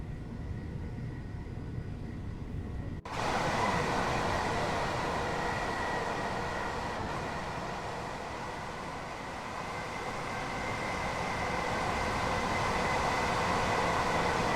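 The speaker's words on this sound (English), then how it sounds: "I love the white noise of driving the train" Simulated train cruising through the London countryside in Train Sim World 5, a steady broadband rumble and rush of the cab that cuts in abruptly after a quieter start and holds loud and continuous, with no talk.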